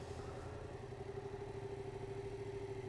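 A Yamaha MT-07 motorcycle runs on light throttle during slow slalom practice, giving a faint, steady low engine hum with an even pulsing beat.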